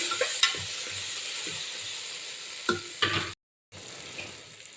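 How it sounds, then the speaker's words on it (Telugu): Tomatoes cook in oil in a pan for a masala pesarattu rice dish. A soft sizzle runs under occasional scraping stir clicks, close by, and a brief dropout near the end. "వీటిని నూనె పైకి తేలే వరకు మగ్గనివ్వాలి టమాటాలని."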